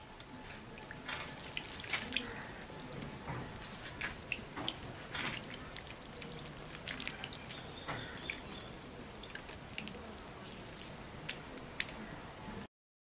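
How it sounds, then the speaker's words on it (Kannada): Water is sprinkled over freshly sown paddy and redgram seed beneath a thin soil layer in a germination test, giving a continuous close pattering of drops and small splashes with occasional louder spatters. "ಈಗ ನೀವು ನೋಡಬಹುದು ನೀರನ್ನು ಚಿಮ್ಮಿಸ್ತಿದ್ದಾರೆ ಅದಕ್ಕೆ."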